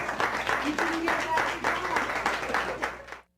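A room of coaches at a talk on schooling gives themselves a round of applause. Busy, even clapping holds for about three seconds at moderate volume, with faint voices underneath, then cuts off abruptly.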